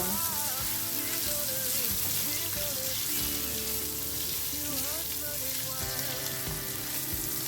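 Boiled potatoes and green chilies tossed in a hot pan give a steady sizzle and stirring noise, partly covered by melodic background music throughout.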